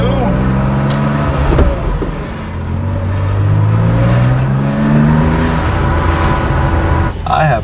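A 1977 Porsche 911 S engine pulls hard on a test drive, loud and close, its pitch rising through the revs, dipping briefly, then climbing again.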